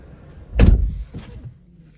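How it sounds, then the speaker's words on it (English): A solid, muffled thud of a 2022 BMW 220i coupe door shutting nearby, followed by a second softer closing thump. "Let's close the doors. Hear the closing sound."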